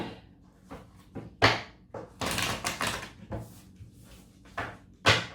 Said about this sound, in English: I've already done some shuffles for you, but I'll do a couple more while we're filming